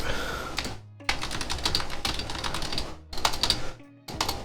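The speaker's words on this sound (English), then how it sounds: "If I can type." Rapid keyboard typing in bursts of clicking keystrokes, close and fairly loud, broken by a few short pauses.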